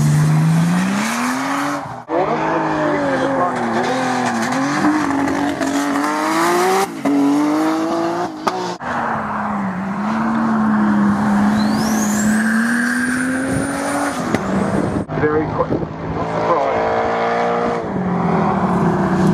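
Z race car number 79 launches hard at the Mt Alma Mile hillclimb, its engine screaming up through rising and falling revs with tyre squeal, loud and close, then the pitch climbs away as it pulls off.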